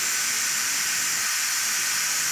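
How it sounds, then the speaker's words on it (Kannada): A pressure cooker whistle vents steam in a steady, loud hiss that holds unbroken throughout, with no speech. "ಒಂದು ಐದು ಸೆಕೆಂಡ್ಗೆ ವಿಷಲ್ ಆಗಿಬಿಡುತ್ತೆ"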